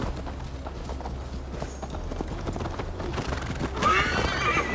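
A horse in Assassin's Creed Valhalla whinnies near the end over steady clip-clopping hooves, with riding sounds throughout the scene.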